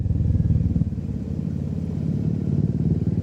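A motorcycle running without a dB killer gives off a loud, rough, throbbing exhaust beat close by, steady and continuous with a rapid pulsing thump.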